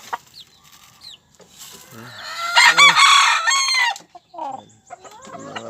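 Pet chickens and young chicks cluck and squawk loudly and close by at feeding time, with bursts of excited calls and a rooster-like cry amid quieter pauses.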